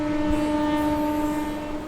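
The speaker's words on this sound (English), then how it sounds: "So together, they board a train to Coimbatore, where Priya and her family are waiting for" A train sounds a loud, steady horn, a sustained multi-tone blast over a rumbling rail background with no talking.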